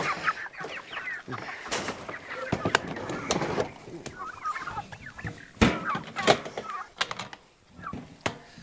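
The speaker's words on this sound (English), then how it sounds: "We got turkeys." A busy chorus of turkey gobbles and clucks mixed with other fowl calls, fairly close, with sharp knocks and rustling throughout.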